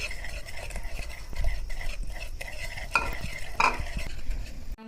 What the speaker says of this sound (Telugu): కలిపేటప్పుడు అంతా ఒకే డైరెక్షన్లో కలపాలి.